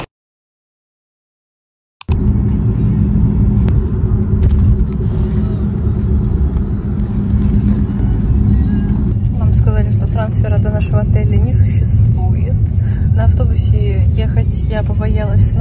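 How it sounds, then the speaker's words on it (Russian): Taxi ride with suitcases in Korea, a steady low engine and road rumble filling the cabin, loud and continuous, with people talking over it. "поэтому мы едем на такси"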